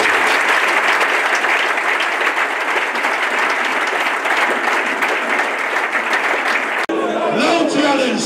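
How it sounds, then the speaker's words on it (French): A church congregation applauds loudly for the Lord after a prayer, a dense, steady wash of clapping that holds for about seven seconds before giving way to a voice speaking. "Nous allons applaudir pour le Seigneur."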